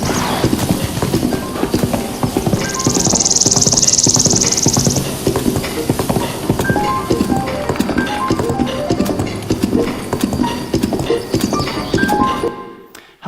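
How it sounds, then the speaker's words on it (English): Horse hooves clip-clop steadily as Link rides through a Zelda game world. A sparse piano plays over the rhythmic footfalls, and a short whinny-like burst rises briefly near the start. "When Link is riding a horse, an open pointillistic piano begins as the accompaniment"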